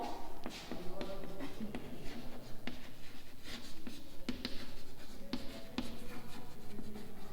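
Writing an equation on a board, with steady, close scratching strokes and frequent sharp taps over a constant room hum, continuing without pause for several seconds.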